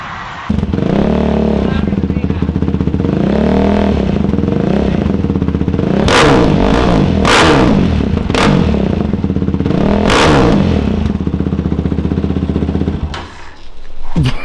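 A Yamaha YFZ450R quad fitted with a Rossier R5 exhaust revs hard and loud nearby, a steady idle broken by several sharp throttle blips and rising roars, with people talking over it.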